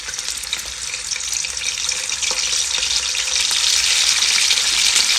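Chicken pieces fry in hot oil in a pan, making a loud, dense sizzle that grows gradually stronger. Faint clinks of stirring sit under the crackle, with no talking.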